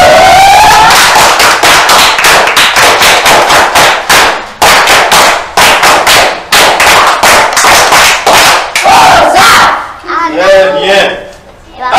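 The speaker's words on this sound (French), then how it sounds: "Bravo, on applaudit Anna." A crowd at a children's event claps and cheers for a girl named Anna, with dense, loud applause running steadily for about ten seconds before fading into voices.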